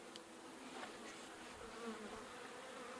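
Bees from a horizontal beehive buzzing faintly and continuously, a soft droning hum with occasional closer passes, no talking.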